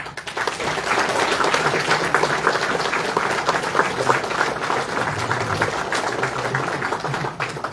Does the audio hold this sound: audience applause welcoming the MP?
yes